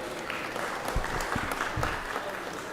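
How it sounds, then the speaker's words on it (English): Scattered applause from a modest crowd, a light patter of clapping with a few sharper claps, heard from some distance. "Let's give the senator from the 27th and his family a round of applause for being here today."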